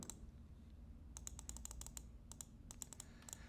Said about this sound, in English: my cat jumped on the keyboard